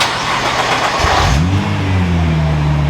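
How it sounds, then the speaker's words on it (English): A Nissan GT-R R35 with stock downpipe and midpipe cranks and fires up, the engine catching and settling into a steady, loud idle, close and alone. "Now let's do the first startup with a stock downpipe and midpipe setup."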